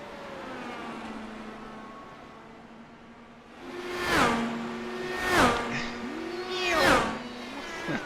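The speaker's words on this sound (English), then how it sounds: "This car sounds so good." An IndyCar race engine drones, then three high-revving IndyCars scream past one after another with rising and falling pitch.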